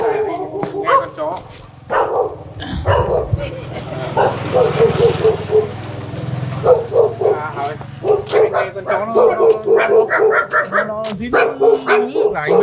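A house dog greets its owners coming home with excited barks, high yips and whimpers, close and loud, mixed with people talking nearby.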